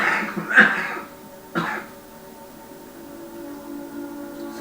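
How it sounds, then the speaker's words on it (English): Two close, raspy human coughs, one right after the other, followed by a quiet room with no talk. "I do apologise about the coughing"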